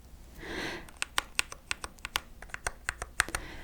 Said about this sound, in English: this is the best keyboard that I have ever used in my entire life